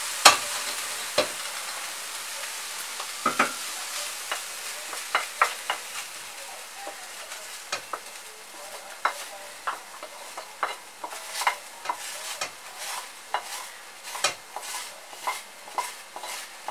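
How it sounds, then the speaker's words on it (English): Fried ingredients for lasagne are tipped into a pot and stirred, giving a steady sizzle with repeated sharp scrapes and clinks of a utensil against the metal pot, close up with no talking. "Then we add in the fried stuff."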